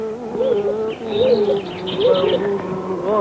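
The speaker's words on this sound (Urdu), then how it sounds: "کبوتری نے اپنا گھونسلہ بنا دیا اور انڈے دے دیے" A pigeon coos in a rising and falling warbling series, fairly close and steady, while fainter small-bird chirps flicker in the background; no one speaks.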